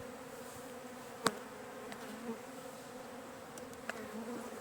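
Honeybees robbing a hive buzz steadily in a dense, droning hum, with a few sharp clicks and taps standing out against the continuous swarm.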